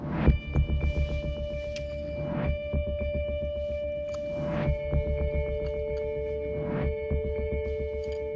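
A steady, throbbing heartbeat pulses on its own under a humming tonal bed during a tense cooking competition, with soft regular thumps repeating about every two seconds.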